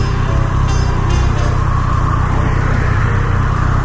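Loud, steady road noise of car engines and tires rumbling past close by, heard from a motorcycle on the road, continuous with no pauses.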